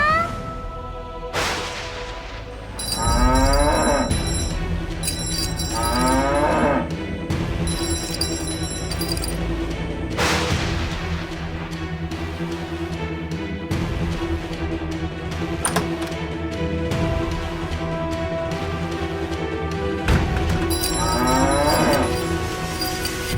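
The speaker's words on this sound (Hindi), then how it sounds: "तुम इतना क्यों रंभा रही हो?" A cow moos again and again in a televised drama scene, the long calls rising over dramatic music with booming hits and shimmering stings.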